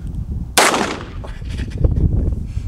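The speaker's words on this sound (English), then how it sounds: "pull the trigger and shoot." A single loud gunshot from a hammer-cocked gun, fired outdoors at a metal target, cracking close and sharp before a short fading echo, with background noise on both sides.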